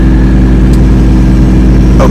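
Inside the cab of a Lexus GS300 drift car with an open downpipe, a loud, steady low engine drone fills the short moment, with a faint click near the end.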